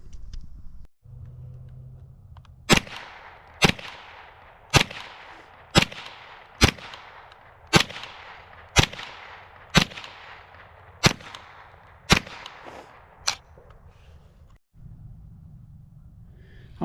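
New Year's Eve fireworks fire in a series of about twelve sharp, loud bangs at a steady pace of roughly one per second, each with a short crackling tail, over a quiet outdoor background.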